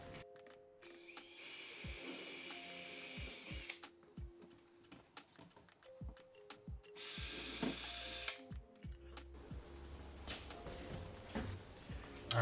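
Screws are driven with a power drill to mount a curtain rod bracket; two sustained high whirring runs with intermittent clicks and knocks between them, heard close and moderately loud.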